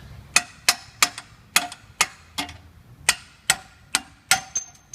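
A hammer taps out a shock absorber bolt on a Ford Mustang SN95 with its rear end jacked up: about a dozen sharp metallic strikes in an irregular rhythm, close and clear, with short ringing decays.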